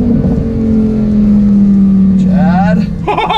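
A Lamborghini sports car driven by remote control gives off a loud, steady engine drone that holds throughout, with a slight rise in pitch and voices breaking in near the end.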